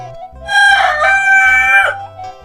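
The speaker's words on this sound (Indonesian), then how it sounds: "Wah, ayam jago berkokok sahabat ya." A rooster crows loudly and close by in a calm rural village in Sukabumi, one long drawn-out cock-a-doodle-doo with faint low hum beneath it.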